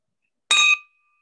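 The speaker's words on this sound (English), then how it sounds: "Ring the bell for Stephanie Bednarz and Trinata." A single bell struck once at a business ceremony, giving a bright metallic clang with a clear ringing tone that decays over about half a second, with no talk over it.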